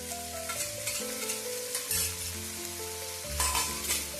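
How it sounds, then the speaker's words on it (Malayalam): Ginger and garlic fry in a pan for mutton biryani as tomatoes go in, a steady sizzle with light stirring running under loud tonal background music throughout. "ഇനി നമുക്ക് തക്കാളി അങ്ങോട്ട് ചേർത്ത് കൊടുക്കാം."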